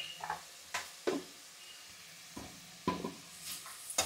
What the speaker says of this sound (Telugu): ఇది కొంచెం వేగనివ్వాలి